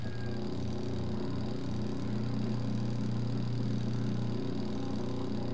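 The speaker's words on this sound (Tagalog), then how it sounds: "Yung wash motor natin. Yung spin motor." The spin motor of a spin dryer runs steadily, a continuous close hum with an even mechanical drone, holding a constant pitch with no talk.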